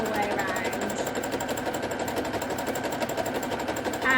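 Sewing machine running steadily through free-motion embroidery, stitching a rose with the fabric pushed fast, slow, backwards and forwards; a continuous close buzzing hum lasts throughout.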